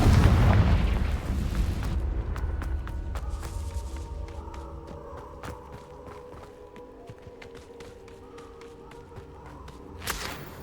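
A Confringo spell explosion in Hogwarts Legacy, a loud fiery boom that opens the moment and rumbles away, followed by scattered crackling debris clicks and a fainter burst near the end.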